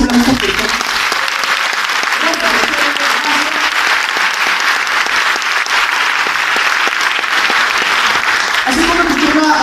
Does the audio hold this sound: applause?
yes